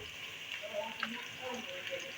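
Green and black cardamom pods with cumin frying in hot oil for a liver dish, a soft steady sizzle with faint spattering pops under low room hiss.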